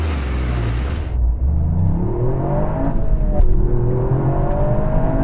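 A Toyota GR Yaris launches hard from a standstill, engine note climbing loudly under full acceleration, with a quick dip at a gear change before the revs rise again.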